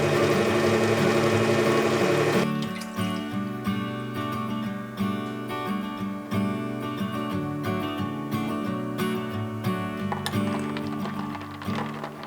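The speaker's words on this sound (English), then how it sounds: "I'm just going to use the whisk attachment on our KitchenAid." A KitchenAid stand mixer with its whisk attachment whips cold foam, a loud burst of whirring at first, then a steady motor hum with rhythmic ticking from the whisk.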